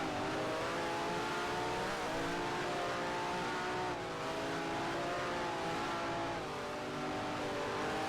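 A vintage Brabham or Cooper race car engine in a sim racing game screams continuously at high revs, pitch dipping and climbing through gear changes, loud and steady with no talk.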